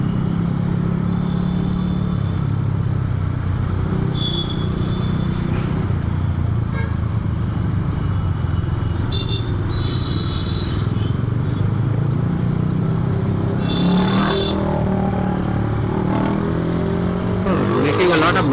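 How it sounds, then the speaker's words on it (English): A loud motorcycle with a modified silencer roars past on a monsoon mountain road, heard as a sustained engine drone with rising and falling pitch, mixed with road noise and other traffic. "I think he modified silencer. That's why it is making a lot of noise."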